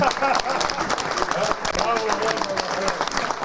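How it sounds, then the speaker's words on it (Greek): A crowd applauds children at a New Year's vasilopita cutting, a dense, steady clapping that blends with voices and bustle in a lively room. "και χειροκρότημα για τα παιδιά"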